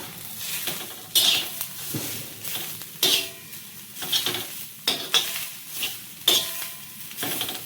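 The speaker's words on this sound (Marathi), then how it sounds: "पहिल्यांदा आपण जिरा आणि तीळ घेतलेलं भाजून ते सुद्धा घालायचं हे मिक्स करायचं" Roasted cumin and sesame seeds being stirred into methi chicken in a pan, with repeated scraping strokes of a spoon against the metal under a light sizzle, close and moderately loud, no voices.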